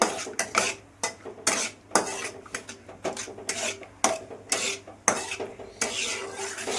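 Cashews fry in ghee in a pan while a metal spoon repeatedly scrapes and clinks against it, sharp close strokes in an irregular rhythm over a soft sizzle.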